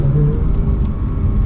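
Low, loud engine rumble of a 991.2 Porsche 911 GT3 accelerating, steady and close, with no talking.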